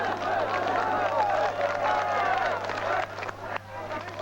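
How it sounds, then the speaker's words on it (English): Students at Tiananmen Square in 1989 applaud a camera crew, a crowd's clapping and murmuring mixed with a voice talking over it, fading somewhat toward the end. "this applause was for us, for the CBS News camera crew"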